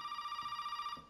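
Telephone ringing in the horror video game Resident Evil 7, a steady electronic bell tone with a rapid trill that cuts off after about a second, clear and moderately loud against a faint low background.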